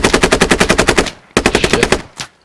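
Automatic gunfire in the tactical shooter game Squad: two long rapid bursts of loud, close machine-gun fire with a short gap between them, then a single trailing shot, with no talk over it.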